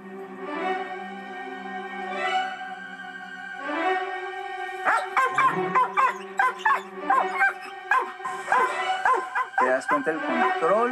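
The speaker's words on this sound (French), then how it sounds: "je dirai au chien « cherche et aboie »" A trained dog barks on command: a few whimpering yips, then a run of loud, rapid barks close by, with faint talk in the background.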